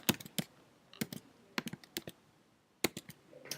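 Computer keyboard typing in short bursts of crisp clicks, separated by brief pauses, close and fairly quiet with no talking.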